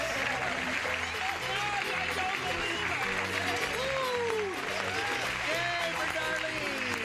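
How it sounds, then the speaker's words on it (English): Loud studio audience applause and cheering on a 1970s television game show, a dense continuous roar of clapping with whoops, while a voice and music tones carry over it throughout. "while she's celebrating and clapping and applauding and hollering and screaming"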